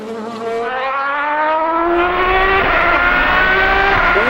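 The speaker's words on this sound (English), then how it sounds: "It's the racing version of the DB9, and it's an insane car, and it sounds like this." An Aston Martin DBR9, the racing version of the DB9, howls as its engine revs climb steadily under acceleration, a loud, close, continuous wail with no talking.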